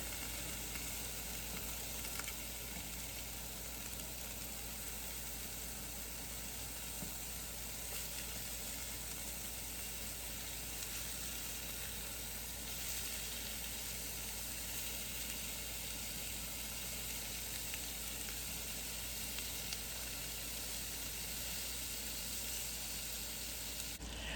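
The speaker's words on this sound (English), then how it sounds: "I'm going to fry these patties up now" Salisbury steak patties fry in a pan already used for mushrooms and onions, giving a steady, even sizzle that holds at a moderate level for the whole stretch with no voices.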